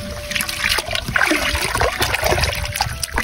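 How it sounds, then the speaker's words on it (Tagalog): Running water rinses a large 7 kg raw pork ham leg, a steady close splashing and trickling stream with gurgles, continuous throughout with no talk. "At banlawan lang natin yan mga pare ko."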